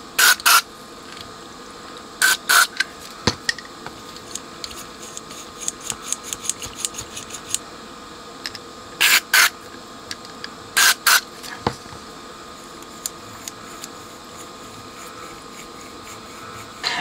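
Short bursts of lubricant spray being squirted into a switch on a Technics SU-3500 amplifier, several brief hissing puffs spaced apart with small clicks of handling in between, close and fairly quiet.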